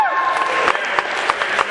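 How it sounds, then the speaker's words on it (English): Scattered, thin applause from a small audience, a few hands clapping unevenly over a murmuring crowd, faint and short-lived. "Can I get a round of applause? Not very strong, but I'll take it."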